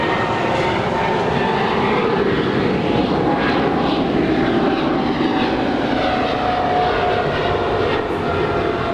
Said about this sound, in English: 777-300ER heading to London, of course